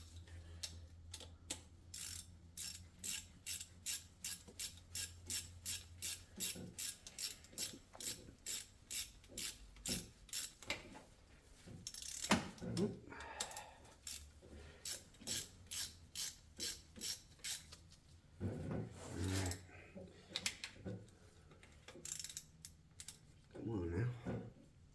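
Ratchet with a 13 mm socket working on a 2008 Audi A4 engine during a timing belt job, giving rapid, steady clicking strokes in several runs, close and clear, with short pauses and some handling noise between them.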